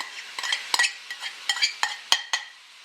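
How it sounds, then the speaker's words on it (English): Shrimp searing in vegetable oil over medium heat in a wide pan, stirred with a utensil that makes quick, irregular scrapes and clinks over a soft sizzle, no talking. "Just gonna move that around quickly, just to sort of sear it off"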